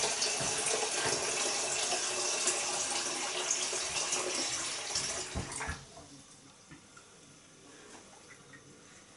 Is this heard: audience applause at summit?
no